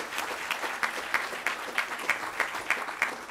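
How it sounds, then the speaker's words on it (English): Audience applause for a graduating class at a ribbon cutting ceremony, sustained clapping from a crowd with a rhythmic pulse of louder synchronized claps recurring about every third of a second. "Give them another great round of applause,"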